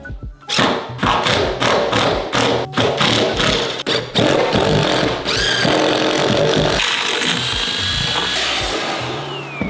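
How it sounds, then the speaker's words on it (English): A Dremel rotary tool cuts a line across a wooden bar-top, giving a loud, close grinding buzz with repeated bursts and stops, then a steadier high-pitched whine toward the end. "Dremel my way a little line across this entire table"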